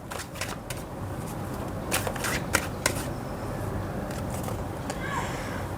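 A deck of Wealth Manifestation affirmation cards being shuffled: a soft, continuous papery riffling with scattered crisp flicks and slaps, close and fairly quiet, with no voices.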